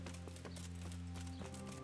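Horse hooves in the video game Kingdom Come: Deliverance clip-clop in a quick, uneven rhythm over a steady low tonal hum, moderately close with no voices.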